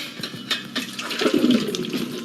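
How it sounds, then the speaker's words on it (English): Boiled garlic and hot water poured from a pot into a colander in a home kitchen give a rushing, splashing gush that builds and churns for about two seconds, close by, with no talking. "we'll turn off the stove too and pour this into a colander"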